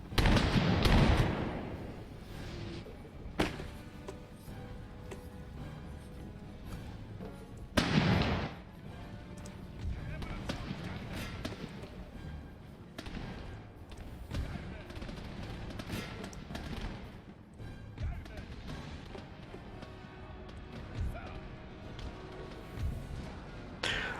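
Landsknecht units in a pike-and-shot mod of Napoleon Total War fire their guns in sharp volleys and scattered pops, with a few louder bursts standing out. Someone talks over the distant battle throughout.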